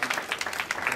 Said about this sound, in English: let's give a big round of applause to Akash.